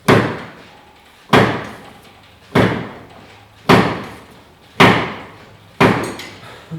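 Polaris RZR front axle shaft struck to free its C-clip, six sharp metallic impacts about a second apart, each ringing briefly and fading, close and loud with no talk.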